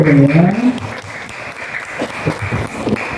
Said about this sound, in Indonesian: Tepuk tangan untuk Revano ya